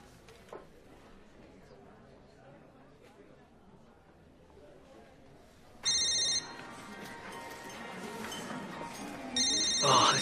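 Telephone bell ringing in a school office, starting partway through with bright repeated electronic trills that grow louder, after a stretch of quiet room noise and faint background chatter.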